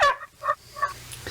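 A wild turkey gobbles close by, three quick rattling bursts in a row, clear and fairly loud over a quiet background.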